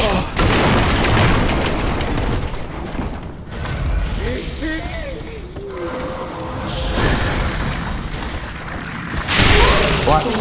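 Black firebomb blast in Dark Souls 3, a loud booming burst followed by crackling, rumbling noise and game sound, with someone talking over parts of it.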